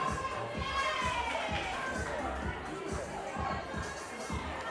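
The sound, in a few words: crowd cheering competitors at a CrossFit event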